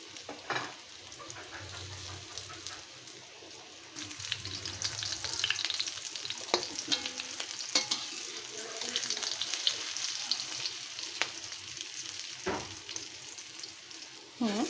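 Chicken tikka kebab pieces fry in a pan with only a little oil, giving a steady, fairly quiet crackling sizzle that grows busier partway through, with occasional clinks of a utensil stirring and turning the meat.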